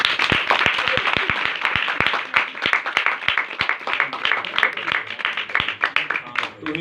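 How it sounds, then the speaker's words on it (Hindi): A church congregation claps hard and fast, many sharp overlapping hand claps forming dense, loud applause that carries on for several seconds with voices mixed underneath. "एक बार जोरदार तालियां"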